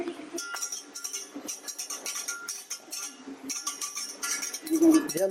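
A metal whisk clinks and scrapes rapidly in a pan while flour is beaten into melted butter at a family croissant-making session, producing bright irregular tapping close by, with a child's and adult's voices nearby.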